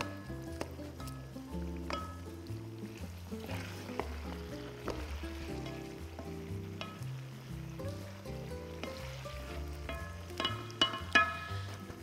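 Meat frying in its own melted fat in a pan gives a steady soft sizzle with scattered crackles and a few louder pops near the end. The sound is close and even, with no one speaking.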